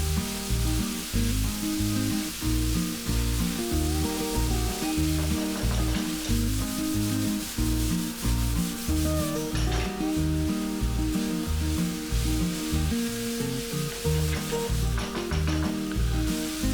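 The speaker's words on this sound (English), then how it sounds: "fry it for about 2 to 3 minutes, making sure that the chili powder and turmeric are nicely fried with the vegetable" Bitter gourd and potatoes fry with chili powder and turmeric in a pan, making a continuous sizzle with stirring under prominent rhythmic background music, with no talking.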